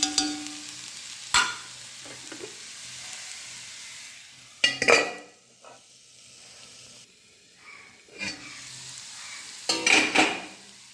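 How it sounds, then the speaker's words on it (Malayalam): Grated coconut being stirred into a frying pan of vegetables, with a steady soft sizzle and hiss under scattered scraping and clinking of the spoon against the pan. "ചേർത്തൊന്ന് നന്നായി ഇളക്കി കൊടുക്കാം."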